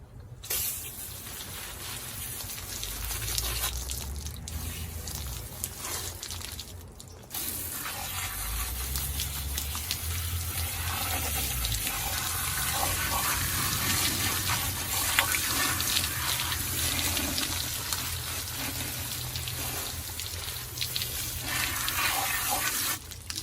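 Water runs from a tap while a hog carcass is washed out, a steady gushing flow with splashing changes as the stream hits the meat, fairly close with no talk.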